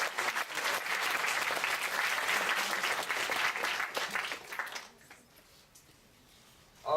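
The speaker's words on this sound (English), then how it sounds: "So round of applause." An audience at a university debate and panel discussion applauds steadily, a dense sustained clapping that fades out after about five seconds, leaving a quiet room.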